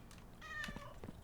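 A single cat meow from the Parcel Simulator video game, rising and falling as it trails off over steady background hum.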